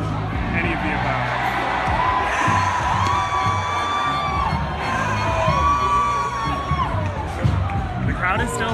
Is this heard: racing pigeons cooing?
no